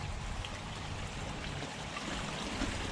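Water pushed by a 10,000 Aquaforte pump into a circular water feature in a wildlife pond rushes and trickles in a steady, continuous splash that stays even and fairly close throughout.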